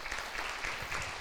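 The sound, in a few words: congregation applause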